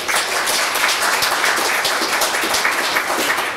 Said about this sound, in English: So there's a nice round of applause for Dr.